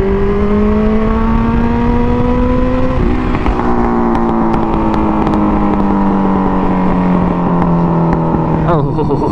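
A K5 engine holds loud, close revs with a strong rising and falling pitch as it speeds up and eases off, and scattered sharp crackles and pops from backfires come through on deceleration.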